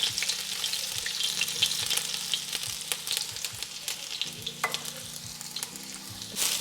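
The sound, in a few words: chopped garlic sizzling in hot oil for fried rice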